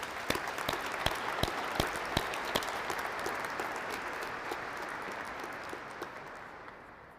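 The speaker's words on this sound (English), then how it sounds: "Let's have one more round of applause for our graduates" Applause for graduates at a law school commencement ceremony, a broad wash of many hands clapping in a large hall, steady and moderately faint, with a few sharper claps standing out before it slowly tapers off.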